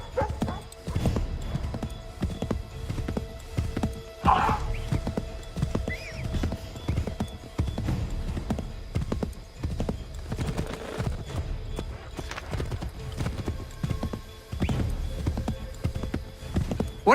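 Steady clip-clop of hooves at a running pace, with a brief whinny partway through, beneath occasional voices over a busy background, from a galloping horse in the video game Assassin's Creed III.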